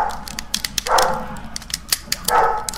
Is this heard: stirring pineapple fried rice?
no